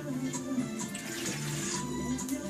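Water runs steadily as a measured amount is poured into a bowl for a boxed cake mix, a continuous close splashing trickle with no talk.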